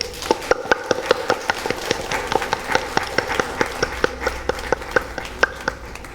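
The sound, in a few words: congregation clapping loudly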